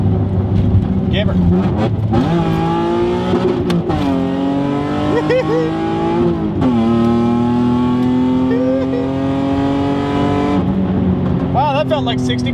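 A 1991 Ford Taurus SHO engine pulling hard on an open road, heard from inside the car as a loud continuous roar that climbs through repeated rising revs and gear changes, with people talking over it.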